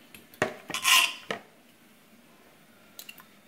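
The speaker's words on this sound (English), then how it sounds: "go ahead and put them in a bowl" Cut ribeye pieces go into a bowl with a few sharp clinks and scrapes of utensil against dish, close and brief, followed by near silence and two faint taps.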